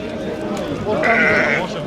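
A sheep bleats amid the hubbub of a busy livestock market in Kattakurgan, with pregnant ewes for sale and people talking nearby.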